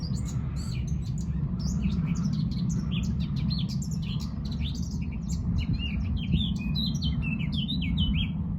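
Blackcap singing at Strumpshaw Fen in spring, a rapid run of bright warbling phrases repeated throughout over a steady low wash of wind or distant background noise, moderately close.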